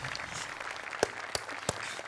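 Scattered applause breaks out from an audience at a Marathi comedy show on stage: a soft, diffuse patter of clapping with a few sharper, distinct claps standing out near the end.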